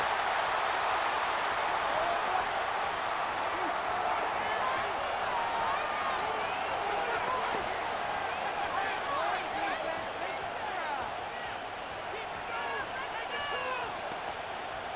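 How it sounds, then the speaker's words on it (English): Stadium crowd roar from the Madden NFL 25 video game, a steady broad wash of cheering that holds throughout, with a slight dip near the end, and a play-by-play commentator talking over it. "This crowd turning up the decibel level."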